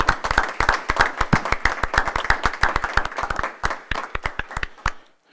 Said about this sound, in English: So we'd like to give you a round of applause for a job well done.